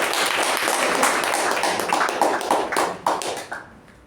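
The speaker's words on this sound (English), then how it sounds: "let's give a big round of applause to our master ceremony" An audience gives the master of ceremonies at a meeting a full round of applause, with close, dense clapping that thins and fades out toward the end.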